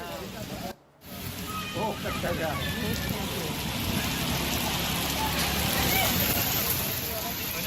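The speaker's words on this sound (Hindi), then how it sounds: "पूरे दिल्ली एनसीआर में तेज़ आंधी के साथ बारिश हो रही है।" Steady heavy rain with strong wind during a storm in Delhi NCR, a dense continuous hiss throughout, with a reporter talking over it.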